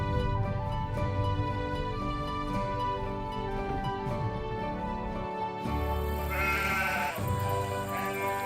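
Sheep bleat repeatedly from nearby beside a single-track road with passing places in the Western Isles, the calls layered over a steady background with music-like tones, with no talking.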